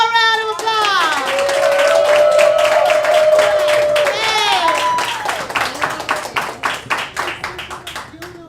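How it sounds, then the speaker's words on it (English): An audience at a talk-show anniversary event applauds, starting under excited whooping and cheering voices, then settling into a steady patter of clapping that fades away. "Give her a round of applause."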